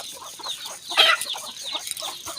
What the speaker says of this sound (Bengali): আমরা চলে আসছি আমাদের মুরগিদের কাছে